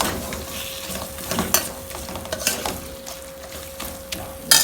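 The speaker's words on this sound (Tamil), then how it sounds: "இப்போ நல்லா தக்காளி நல்லா வதங்கிட்டு இந்த ஸ்டேஜில் கொஞ்சம் நல்லா மசிச்சு விட்டுக்கோங்க." Sautéed tomatoes for a rajma kulambu are mashed in a pan over a soft sizzle, with uneven scraping and pressing strokes from a spoon, close and moderately loud.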